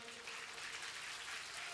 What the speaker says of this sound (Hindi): ताली धीरे बज रही है।